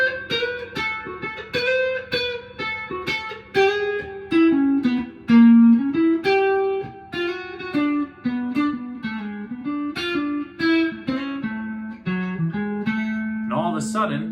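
Guitar plays a western swing country jazz turnaround lick with varied rhythm. Brisk picked single-note phrases with mixed note lengths and short pauses run for about fourteen seconds, close and clean, with no voice.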